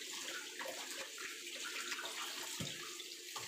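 Ingredients for a chicken soup are rinsed under a running kitchen tap in Hong Kong, a continuous, even splashing stream with small changes as items move through the water.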